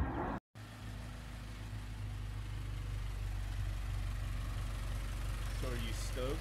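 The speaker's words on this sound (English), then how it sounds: "you don't care that like his car's loud or anything" A car engine idles loudly and steadily throughout, a deep constant rumble close by, with a brief dropout near the start and a voice rising faintly near the end.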